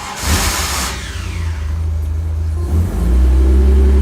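A Jaguar E-Type's engine is started with the choke, followed by a loud, close engine note. After a brief start burst it settles, then rises into a deeper, heavier rev near the end.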